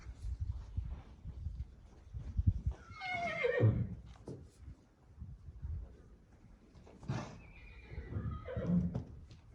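A mare whinnies loudly with a descending, quavering call, followed by a second shorter neigh later, over low background rumble and faint movement, near a newborn foal.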